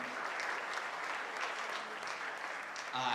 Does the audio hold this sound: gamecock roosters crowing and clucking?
no